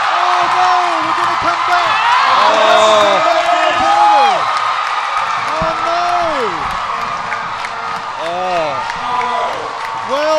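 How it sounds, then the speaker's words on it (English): A rugby crowd at a 2013 Asian Five Nations match between the Philippines and Hong Kong roars with cheers, whoops and applause, a loud continuous wall of noise with a commentator's voice talking over it throughout. "the crowd are going nuts"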